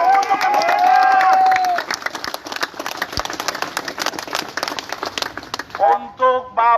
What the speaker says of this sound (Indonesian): Berikan tepuk tangan yang meriah untuk kemerdekaan